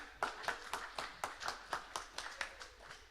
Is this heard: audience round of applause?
yes